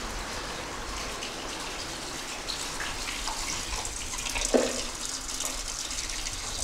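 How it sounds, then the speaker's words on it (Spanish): A thermal water fountain running in an old luxury spa, giving a steady, moderately loud splashing and trickling wash throughout, with a brief brighter spatter partway through and no voices. "Mirad qué fuente"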